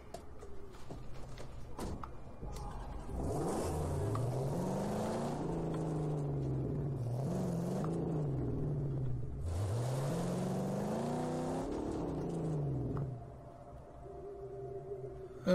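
A car engine revs and rises in pitch as it drives across desert terrain in Mad Max, with several gear-shift swoops. The engine holds a steady loud drone, then drops to a low idle near the end.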